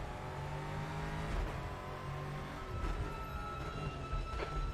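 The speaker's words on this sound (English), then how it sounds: "whatever about the Mustang, it sounds fucking amazing" Ford Mustang race car in the RaceRoom video game, a steady loud engine drone with rising revs and gear changes, continuous and close with no talking over it.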